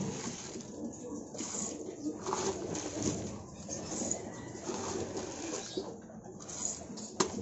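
Racing pigeons coo softly in a loft, low murmuring calls repeating over a steady bed of rustling and shuffling, with no clear speech.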